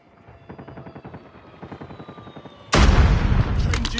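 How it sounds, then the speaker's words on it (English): A stealth chopper in Call of Duty's Nuketown map thumps with rapid, rhythmic rotor beats that build, then heavy gunfire bursts in loud and close, with sharp shots layered over the din. "Stealth chopper inbound."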